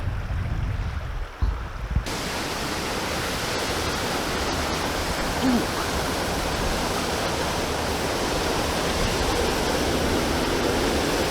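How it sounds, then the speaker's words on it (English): Rushing water of the Gweebarra River roars in a continuous broad rumble, flowing powerfully through a gorge, steady and close. "I can hear the rumble of the water from here."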